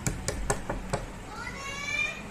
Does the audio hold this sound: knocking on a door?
yes